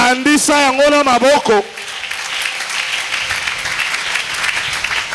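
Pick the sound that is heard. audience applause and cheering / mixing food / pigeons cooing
audience applause and cheering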